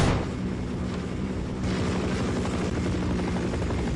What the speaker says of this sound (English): an attack helicopter has blocked our normal path